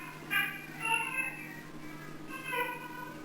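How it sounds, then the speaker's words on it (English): A talkative cat in the Home Safety Hotline game meows three times in quick succession, close and clear, with a steady low hum underneath. "Sounds like a very talkative cat."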